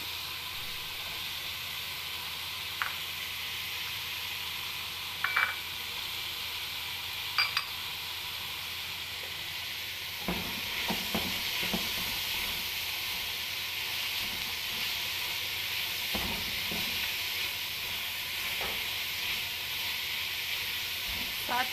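Vegetables sizzling and frying steadily in a pan for a white sauce pasta, a constant hiss with a few light clinks and stirring scrapes, growing slightly busier partway through.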